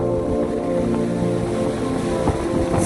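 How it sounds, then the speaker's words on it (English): Gale-force wind on a cold shore roars steadily into the microphone, a dense, loud rumble with surf-like wash and no voices. "It is bitter cold out here. This wind is horrendous."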